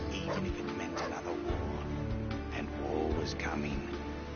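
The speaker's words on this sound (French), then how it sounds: "Oh, le toutou. Oh, il a mal à la patte." A video game dog with an injured paw whimpers and yips softly in pained little cries, mixed under people chatting nearby.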